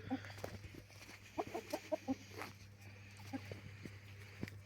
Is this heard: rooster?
yes